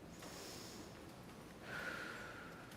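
A single deep breath taken by a group of children and adults in a church setting, a soft airy rush that swells into a long exhale, faint and alone.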